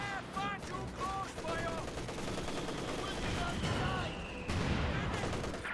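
Bursts of machine gun fire mixed with explosions and battle noise in Company of Heroes 2, near a Vickers gun being hit by a Panzer IV, with rapid rattling volleys and a steady dense background of combat.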